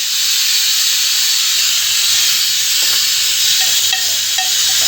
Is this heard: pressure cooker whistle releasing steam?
yes